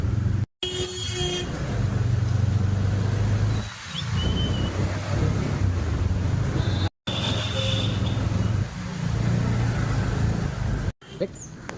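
An auto rickshaw rumbles through rainy city traffic toward Marol Pipeline, its engine droning steadily while car horns toot in short bursts, near and loud, with a voice heard briefly.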